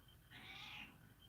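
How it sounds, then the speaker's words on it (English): A cat gives one drawn-out meow, faint and somewhat distant in an otherwise quiet room, lasting under a second. "No, that was my cat."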